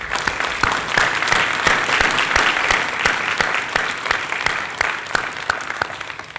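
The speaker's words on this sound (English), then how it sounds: "if we could give them a round of applause." Sustained audience applause for the panel members at a US Army Garrison Baden-Württemberg transformation town hall, loud, dense and steady throughout with many hands clapping at once.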